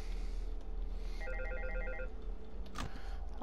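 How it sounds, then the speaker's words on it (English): A telephone rings in the horror game Five Nights at Freddy's 2, a short burst of rapid electronic trill over a steady low hum, followed by a single dull thump. "I'll listen to the phone call."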